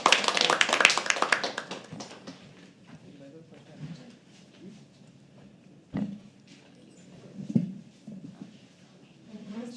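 An audience at a live poetry open mic claps in a brief, dense burst of applause lasting about a second and a half. It fades into a quiet room with soft talking and a few scattered taps.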